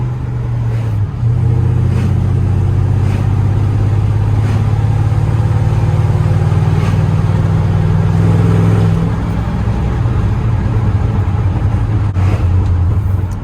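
Low, steady engine rumble of a second-generation Dodge pickup truck idling close by, with a slight dip and rise in pitch partway through and no voices.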